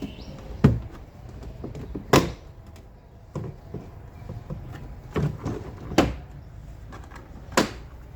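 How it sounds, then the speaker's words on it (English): A plastic trim tool pries the upper trim panel off a Kia Sportage liftgate, producing several sharp plastic clicks and pops spaced a second or so apart, close up, with faint handling noise between them. "gently pry off the upper trim."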